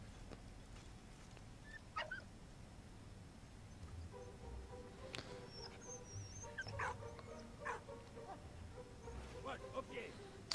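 A dog in the video game Valiant Hearts whimpers and whines in short, high-pitched bursts, repeated several times over a steady low background hum.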